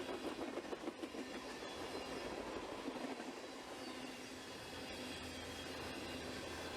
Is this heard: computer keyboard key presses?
no